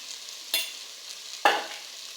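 Onion, tomato and ginger-garlic paste get stirred in a pan for a masala macaroni dish, two distinct scraping strokes about a second apart over a faint, quiet sizzle.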